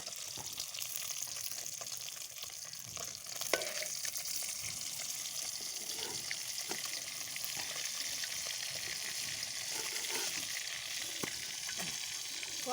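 Continuous hiss and crackle of spices frying in a pan, fairly quiet and steady throughout, with a few faint stirring taps.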